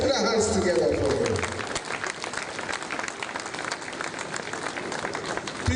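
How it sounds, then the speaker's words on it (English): Audience applause at a Law Week event in a dome hall, a loud swell of many hands clapping at first that eases into a steady, thinner patter, with crowd voices underneath. "Please keep clapping for him as he comes to the microphone."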